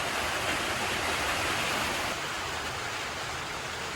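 Dense, steady hiss of heavy rain pouring down during Typhoon Basyang, constant and loud with no pauses.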